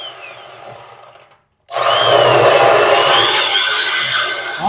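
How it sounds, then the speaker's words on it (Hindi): An electric drill runs loud and steady at full speed after a brief silent pause, boring out a rusted hole in a Bajaj Pulsar 150 BS6 fuel pump, with a grinding, rasping edge throughout. "इसको फ्री करने के लिए ड्रिल मशीन का यहाँ पे यूज करेंगे"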